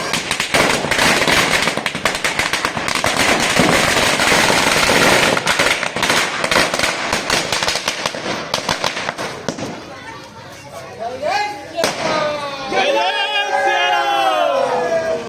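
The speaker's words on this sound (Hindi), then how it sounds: "आतिशबाजी के साथ रावण दहन" Firecrackers and fireworks crackle in dense, rapid bursts as a Ravana effigy burns at a Dussehra event. The popping thins out after about ten seconds and gives way to whoops and shouts from the crowd.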